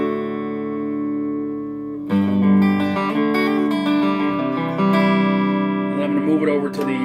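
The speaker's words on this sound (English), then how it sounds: "This is just my clean tone on the neck setting." An electric guitar on its clean tone, neck pickup selected, rings through a Fender Blues Junior amp: a sustained chord followed by clear picked notes and chords, close and alone.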